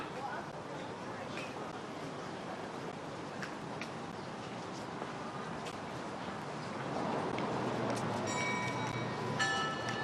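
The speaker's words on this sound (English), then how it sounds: "Oh, I hear bells ringing." Bells ring out in the distance over a steady, noisy outdoor wash, growing a bit louder and clearer toward the end.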